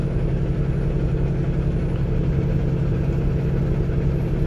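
A Cummins truck engine runs steadily at around 1500 RPM while cruising the I-80 freeway between Laramie, Wyoming and the Lincoln Memorial rest area, a continuous low droning hum with no talk.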